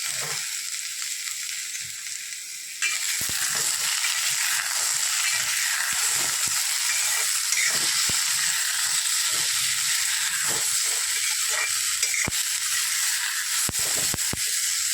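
Sambar shallots and whole tomatoes drop into hot oil with fennel seeds for a Chettinad fish kulambu, setting off a loud, steady sizzle that swells sharply a few seconds in and holds with sparse crackles and pops.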